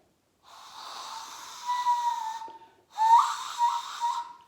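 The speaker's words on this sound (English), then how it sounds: "So this is how I whistle." Two long, breathy whistles blown through cupped hands, with an airy, hollow tone, the second starting after a short pause, rising slightly and wavering.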